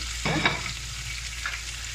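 Chopped onion and curry leaves frying in oil for a single serving of carrot rice, a brief stir and scrape near 0.25–0.5 seconds over a steady low sizzle, with no talking.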